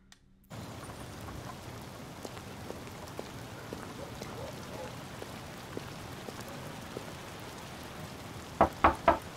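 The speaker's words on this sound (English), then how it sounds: "Rain." Rain falls in a video game as a soft, steady patter at low level, with a few sharp knocks near the end.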